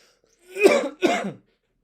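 Two short, rough coughs in quick succession, close and fairly loud, with silence around them.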